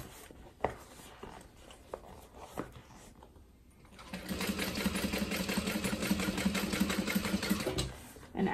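A sewing machine stitches a tote bag, first in scattered short bursts and then in a steady continuous run of several seconds, with a whirring motor and rapid needle chatter, close by.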